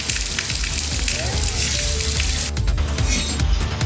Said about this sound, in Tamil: திடீரென கனமழை பெய்தது